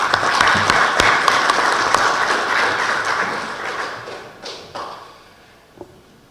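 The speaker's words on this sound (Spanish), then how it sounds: "Lo recibimos con un fuerte aplauso" A lecture audience at a Supreme Court hall welcoming a law professor with loud, dense applause that holds for about four seconds, then thins to a few scattered claps and thumps before fading.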